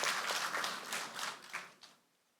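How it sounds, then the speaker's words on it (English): An audience at a conference closing session applauds a guest, a brief round of dense clapping that thins out and fades to quiet within about two seconds. "So please give him a round of applause"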